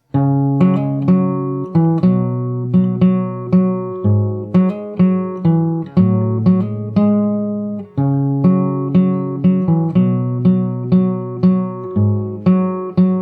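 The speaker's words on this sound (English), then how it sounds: "After that you have the verse, which sounds like this." Acoustic guitar played fingerstyle through the verse of a song, a steady flow of plucked notes and bass strings ringing close and clean, no voice over it.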